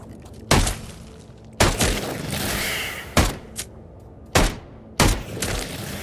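Gunfire in the VR shooter game Into the Radius: five sharp, loud shots spaced irregularly about a second apart, each with a short rumbling tail, and a softer sustained hiss between some of them.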